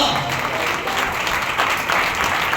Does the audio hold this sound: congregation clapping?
yes